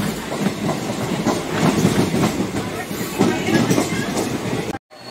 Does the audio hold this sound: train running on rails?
yes